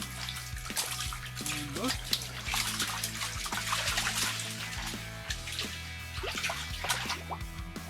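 Inside an ice fishing tent in British Columbia, water in the hole sloshes, trickles and drips in close, irregular splashes while a person speaks briefly.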